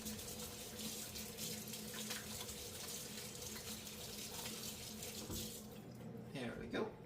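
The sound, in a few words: washing hands under a running kitchen tap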